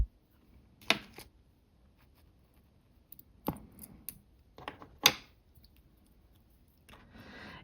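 Small scissors snipping beading thread while making beaded earrings, a handful of crisp, separate clicks and snips spread apart by quiet pauses, close and faint, with light rustling between them.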